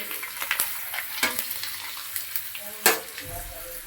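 Potato slices for chips frying in hot oil, a steady close crackle and sizzle with scattered sharp pops and stirring clinks, one louder burst near the end.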